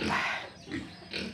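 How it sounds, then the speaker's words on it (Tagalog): Pigs on a muddy pig farm, including young pigs of about one to three months, give a few low grunts in short bursts, fairly close and moderately loud, with no talking. "Ayan ang bagong baboy namin."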